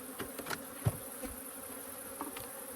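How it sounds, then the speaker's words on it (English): Honey bees buzz steadily around hive boxes late in the evening while robbing honey, a dense, continuous insect hum close to the microphone, with occasional louder bees passing near and no talking. "You can see the bees are starting to rob it all out pretty quick, even though it's late in the evening"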